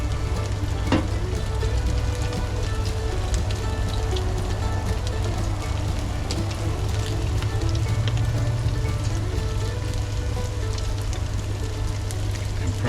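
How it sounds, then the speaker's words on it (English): Red claw pieces coated in beer batter fry in oil at about 180 degrees, a loud, steady, dense crackling sizzle with a low hum underneath, continuous throughout. "drop the pieces of red claw with the beer batter on them. Oil temperature's about 180 at the moment."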